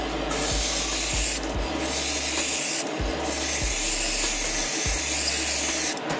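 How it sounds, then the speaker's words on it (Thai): Harder & Steenbeck Infinity CR Plus airbrush with a 0.4 mm nozzle spraying a wide pattern: a steady, close hiss that cuts out in brief breaks and resumes, over a low hum. "มันก็จะสามารถพ่นกว้างได้ทันทีนะครับ"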